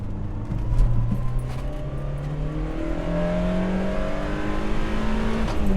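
A Fiat X1/9 with its 1.5 litre mid-mounted engine revs hard and climbs through the gears, loud and close, the engine note rising repeatedly in pitch, with no talking.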